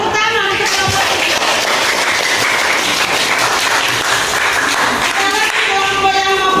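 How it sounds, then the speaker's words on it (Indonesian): A classroom full of students applauds a group after its presentation, with dense, steady clapping that fills the whole stretch and a few voices mixed in. "Kelompok tepuk tangan untuk kelompok ini"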